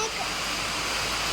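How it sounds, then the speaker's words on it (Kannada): Heavy monsoon rainwater flows in a steady, dense rush of water that stays at an even level throughout, with no other sound breaking through. "ಸಿಕ್ಕಾಪಟ್ಟೆ ಮಳೆ ನೀರು ಬರ್ತಾ ಉಂಟು."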